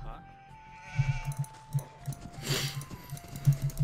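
Sheep bleat in Age of Empires II HD during a 2v2 Highlands match played as the Goths: a run of short, repeated in-game bleats over a soft background tone.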